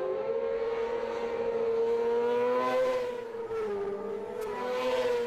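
Racing sidecars at the Southern 100 road races on the Isle of Man scream past, the outfits' engines giving a sustained high-pitched whine that rises and falls slightly as they power through a bend at some distance.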